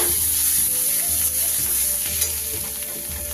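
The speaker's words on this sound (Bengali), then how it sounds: "ভালো করে তেলের সাথে মিশিয়ে নেব মশলা পেঁয়াজ রসুনের সাথে ভালো করে মিশিয়ে নেব" Spices, onion and garlic sizzle loudly in hot oil for a fish curry while a spoon stirs and scrapes the pan, a dense close frying hiss with stirring knocks and no talk.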